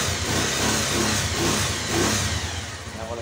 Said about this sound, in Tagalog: Ako na siya mag-start para uminit lang yung makina.